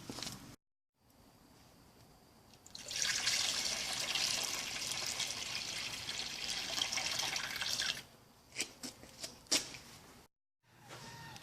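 Liquid TSP deck cleaner or bleach poured into a container while preparing a wash for an old deck, a steady rushing stream lasting several seconds, then a few splashy drips and a brief resumed pour.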